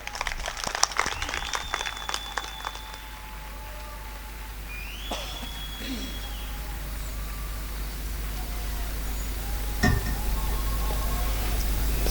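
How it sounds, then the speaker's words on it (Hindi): An audience claps in a dense burst to welcome a guest at a Hindi book launch event, the applause loud for the first few seconds, then thinning out into quieter room ambience. "तालियों से हम स्वागत करते हैं आदरणीय संजू भैया का।"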